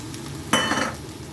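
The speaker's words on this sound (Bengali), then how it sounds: "তো ঠান্ডা করে রাখা রাইসটা দিয়ে দিচ্ছি।" Cooled Gobindobhog rice drops into a hot pan and fries, starting as a sudden rushing sizzle that swells briefly, then fades back to a quieter hiss, with no voices.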